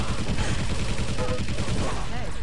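Rapid, dense gunfire from the 1999 arena shooter Quake 3 Arena, with shots rattling continuously at close range and loud for the whole stretch, plus brief tonal game effects.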